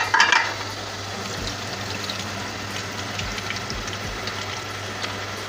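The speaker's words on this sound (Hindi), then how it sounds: "चावल डाल दूंगी मैं इसके अंदर।" Rice tipped into a pot of zarda water coming to the boil, a soft splash and pour at the start followed by a steady low bubbling simmer with faint stirring clinks, close and alone without talk.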